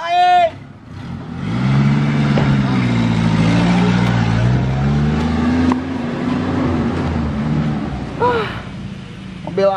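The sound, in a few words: car engine driving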